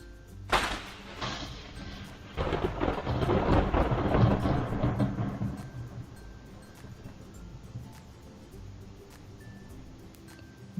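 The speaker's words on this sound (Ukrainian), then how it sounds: "Так, це був грім." A sharp crack of thunder followed by a long, deep rumble that rolls on for several seconds before slowly dying away.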